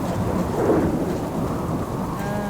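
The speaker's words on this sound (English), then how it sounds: "It is raining and you can't hear the animals nearly as good." Steady rain with low rumbling thunder in the survival video game Subsistence, a continuous loud wash of rainfall with a heavier thunder roll swelling near the start, no voices.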